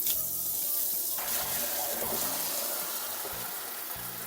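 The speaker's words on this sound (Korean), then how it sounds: "이렇게 소금에 절여 갖고 한번 씻어 줄 겁니다" Salted stingray is rinsed under a running kitchen tap, with water pouring steadily and splashing into a sink at close range, and the rush shifts slightly as the fish is moved under the stream.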